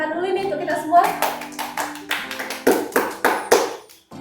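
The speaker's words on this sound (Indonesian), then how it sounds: "Mungkin boleh beri tepuk tangan dulu nih untuk kita semua." Children in a first-grade primary school classroom clap their hands together, starting as scattered claps and settling into a few loud, near, evenly spaced rhythmic beats, with children's voices chattering underneath.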